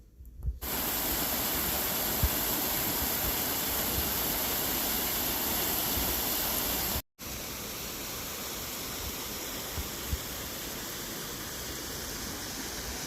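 Rushing water pours steadily at a homestead during tornado warnings, a loud, dense wash that cuts out for a moment partway through and then resumes.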